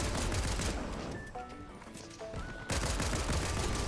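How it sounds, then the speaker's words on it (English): Rapid bursts of egg-launcher fire in a video game, loud and dense at the start and end with a quieter stretch of tonal game sounds and beeps in the middle. "You might as well just use the egg launcher."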